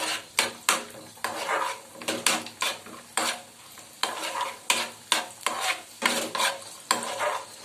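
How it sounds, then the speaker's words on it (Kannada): Almonds, cashews and raisins fry in hot ghee while a spoon stirs and scrapes the pan in quick repeated strokes, each bringing a burst of sizzling, close and clear with no voices. "ಬಾದಾಮ್ ಗೋಡಂಬಿ ದ್ರಾಕ್ಷಿ ಜಸ್ಟ್ ಒಂದು ಚೂರ ಫ್ರೈ ಮಾಡಿಬಿಟ್ಟು ನಾವು ತುಪ್ಪದಲ್ಲಿ ಹಾಕಿದ್ರೆ ತುಂಬ ಚೆನ್ನಾಗಿರುತ್ತೆ"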